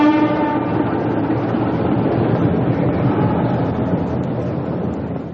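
A train sound effect for a night sleeper in a BBC radio drama opens with a brief horn, then a loud, continuous rumble of rolling wheels and carriages that slowly fades, with no voices.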